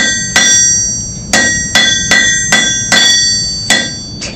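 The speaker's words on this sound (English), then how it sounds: "it will change shape when you hammer it" A blacksmith hammers hot metal at a teaching forge, with six loud, ringing blows at uneven intervals, each strike leaving a bright metallic ring that decays before the next.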